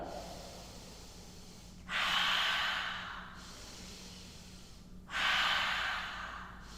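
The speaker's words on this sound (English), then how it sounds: "So breathe in deep. Let it go. In, out." Slow, deep yoga breathing in and out, two long audible exhalations with quieter inhalations between them, close and steady over a low hum.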